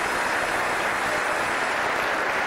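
Theatre audience applauding, a dense, steady wash of clapping from many hands, loud and continuous with no pauses or voices.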